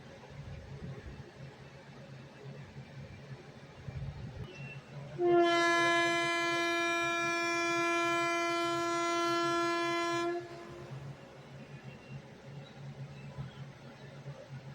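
A passenger train on the Gandhidham to Palanpur line rumbles along steadily. Midway, a loud, sustained horn blast of about five seconds rises above the running noise, then the rolling sound continues alone.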